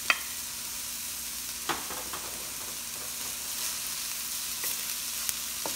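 Garlic sautés in a pan for lechon sisig, an even, moderately quiet hiss of frying with a few isolated clicks from the spoon and no talking.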